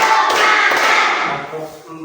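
A fifth-grade class claps hands together in a loud, dense burst of thumping and tapping that runs continuously, then eases slightly near the end.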